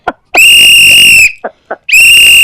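A loud, shrill whistle sounds near the listener in two long sustained blasts. Short chirps fall between them, and the clip ends on a third blast.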